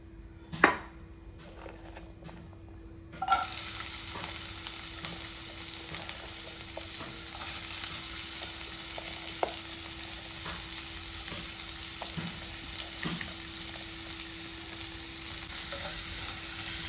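Sliced onions fry on a low flame in oil left over from frying chicken, cooked for a biryani. A quiet pan is interrupted by a clink, then a constant sizzling hiss with occasional spatula taps and scrapes.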